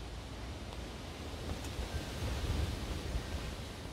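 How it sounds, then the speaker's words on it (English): Wind rising at a rainy campsite in New Zealand, a steady broadband rush and gusty roar with soft rain hiss, fairly faint and continuous with no voices. "And that wind's picking up."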